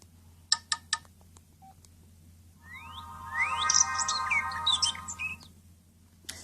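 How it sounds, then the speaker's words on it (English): An LG Wine II phone plays a ringtone: a few short beeps and tones, then a bright chirping, birdlike electronic melody over a low steady hum, fairly quiet. "And that's all the ringtones."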